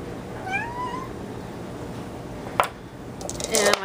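A cat gives a couple of rising meows early on, followed by sharp clinks and rustling handling sounds near the end.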